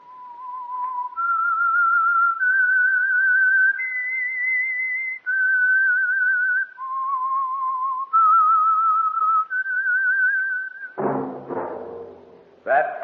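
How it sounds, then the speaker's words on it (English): A lone whistler carries the theme signal of the radio show The Whistler, a slow clear melody of held notes stepping up and down, followed by a deep resonant musical hit at the end. "That whistle is your signal for the Signal Oil Program, The Whistler."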